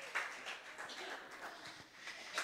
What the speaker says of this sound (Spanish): Tomen asiento y le damos un aplauso al Señor.